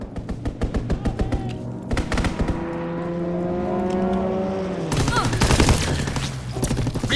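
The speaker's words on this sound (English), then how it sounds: "Fighter pilot inbound, strafing the target." A fighter plane makes a strafing run in Call of Duty WWII, bursts of rapid gunfire followed by a rising engine roar as the aircraft sweeps overhead, then more heavy firing, loud and close.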